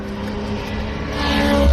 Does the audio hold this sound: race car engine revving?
yes